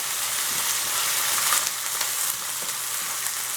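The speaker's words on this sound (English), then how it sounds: "Now we're going to add our organic white onion." Organic white onion sautéing in a hot pan over medium-high heat, a steady close sizzle and crackle with faint stirring scrapes throughout, no talking.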